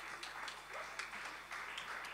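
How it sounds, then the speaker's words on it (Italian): Applause from an audience, a steady broadband patter of many hands clapping at moderate volume throughout. "Kim Rossi Stewart, Giacomo Spagnoli, un applauso"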